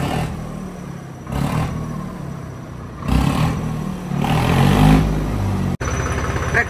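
A tractor engine revs in surges outdoors, loud and close, with bursts of rising throttle around the middle and a sharp click near the end.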